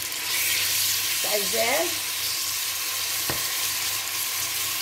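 Meat frying in cooking oil in a pan gives a steady, close, hissing sizzle throughout, with a brief spoken phrase partway through.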